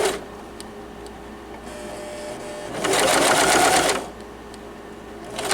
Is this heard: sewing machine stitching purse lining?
yes